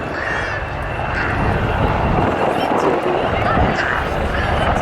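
An AgustaWestland Wildcat helicopter flies at an air show, its engine roar steady and loud throughout while a commentator talks over the public address.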